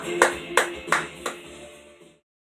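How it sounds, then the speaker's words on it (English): Clapping on a sports show, four or five distinct claps in a slow, even rhythm, close and moderately loud over a faint musical bed that cuts off abruptly. "Give yourselves a round of applause."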